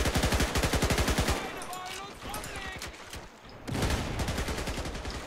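Rapid machine gun bursts from paratroopers in a World War II-style video game, loud rattling fire opening and closing the clip with a quieter gap between, with someone talking over it.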